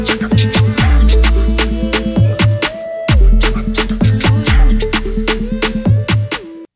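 Baile funk style beat with booming 808 bass, tom hits and crisp percussion in a driving syncopated groove, loud and continuous with short melodic synth stabs throughout, no voices.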